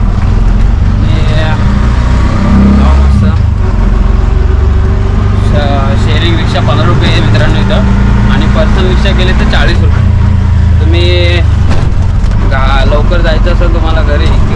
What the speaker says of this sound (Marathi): आता आलो आहे मी रिक्षामध्ये